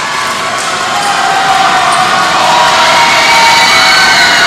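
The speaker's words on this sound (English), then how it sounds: "And there's that crowd." Crowd cheering and shouting in a packed gym during a high school basketball game, Valhalla versus El Cajon Valley, a loud, steady roar that swells slightly toward the end with no talk over it.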